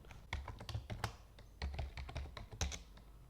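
A computer keyboard being typed on to enter a password, with close, crisp key taps coming in short irregular bursts and brief pauses between them, and no voices.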